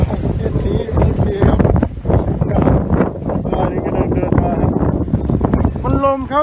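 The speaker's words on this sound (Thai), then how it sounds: "มันลมมากเราก็ต้องขอลาไปก่อนแล้วกันครับเพราะลมจริงๆครับ" Strong wind buffets a microphone outdoors beside a fishing spot under harsh sun, a loud continuous rumbling roar with a brief higher tone near the end.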